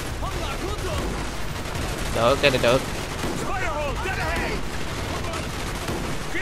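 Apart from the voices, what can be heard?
sniper rifle test shots in video game Call of Duty Black Ops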